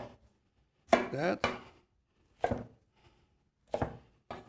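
A knife cuts a celery root (celeriac) into pieces on a board, with a few separate thunking chops spaced apart, and a voice speaks between the cuts.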